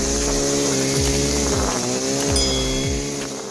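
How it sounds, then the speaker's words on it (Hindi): An engine-powered, hand-held grass cutter with sharp spinning blades runs continuously with a loud, steady buzzing drone, its pitch wavering slightly as the engine load shifts. "इसमें एक इंजन लगा होता है, जिसके द्वारा इसके शार्पी ब्लेड चलते हैं और घास की कटाई हो जाती है।"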